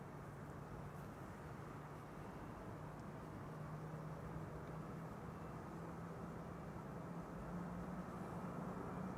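A KLM airliner rolls for takeoff at Amsterdam Schiphol, a steady, distant broadband engine roar that holds even and unbroken throughout, with no voices.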